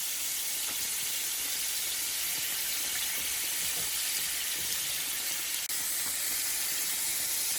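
Shrimps pan frying, a steady, bright sizzle and hiss that runs evenly throughout without pauses.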